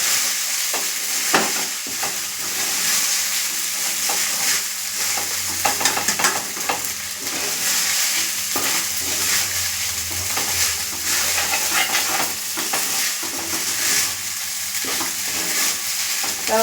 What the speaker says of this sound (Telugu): ఇలా కలుపుతూనే ఉండాలి.